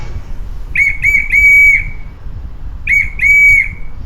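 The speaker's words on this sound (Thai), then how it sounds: "เสียงนกหวีดนะคะเสียงนกหวีดนี่มันจะค่อนข้างจะนิดนึงมันจะเร็ว" Sharp whistle blasts come in two bursts: three quick chirps ending in a long held shriek, then a pause and a short chirp followed by another long shriek. They are loud and near, with faint low hum beneath.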